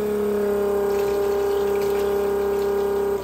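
A small pump hums steadily and loudly with a tonal whine, circulating vinegar through a tankless water heater during descaling, with a faint watery trickle underneath and no other activity.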